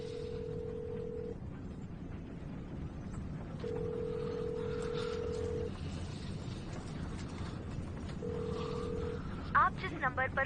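Steady telephone tones sound in three separate stretches, separated by gaps, with quiet voices and room noise underneath and a few short beeps near the end.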